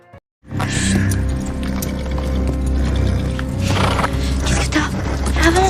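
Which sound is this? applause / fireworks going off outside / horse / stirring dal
horse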